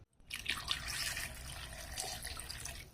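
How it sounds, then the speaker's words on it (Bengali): Water poured from a tap or vessel onto small cut potato pieces in a pot, a short splashing trickle lasting a few seconds, close and fairly soft. "এবার এখানে আমি জল দিয়ে দেবো,"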